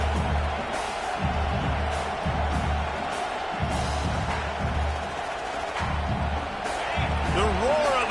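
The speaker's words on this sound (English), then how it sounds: "The roar of the crowd trying to fuel this defense to keep them pinned in their own end" A stadium crowd roars steadily at a college football game between LSU and Georgia Tech. The broad, sustained wash of noise holds under a commentator's voice, with a few louder swells.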